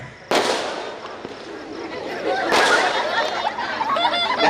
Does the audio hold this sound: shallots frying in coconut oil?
no